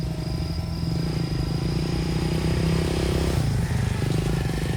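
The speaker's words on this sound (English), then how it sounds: "We see no sign of wires on the back of the motorcycle" A motorcycle engine passes at night in the wild, a steady low engine drone with rising pitch mid-way, heard amid a constant chorus of insects and crickets.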